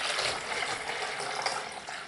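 Water for soap making pours steadily into a measuring container, a continuous hissing flow heard close and moderately loud.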